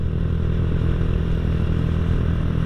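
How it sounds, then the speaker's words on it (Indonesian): A Honda Astrea Grand motorcycle fitted with a smooth, bassy bobokan exhaust idles steadily and close by, a constant low rumble with no clear revving throughout. "Jadi kalau alusan itu cenderung lebih halus suaranya, enggak kelihatan kayak knalpot bedelan."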